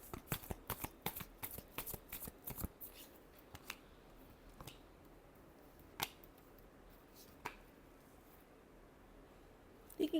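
Tarot cards are shuffled in a quick run of crisp riffling snaps at first, then scattered softer flicks and taps follow with pauses between them, close and fairly quiet.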